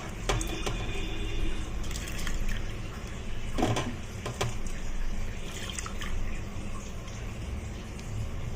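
Washed moong dal is tipped into water in a pressure cooker, giving soft wet splashes, drips and squishy sloshing at moderate-to-low level, with a few sharper clinks along the way.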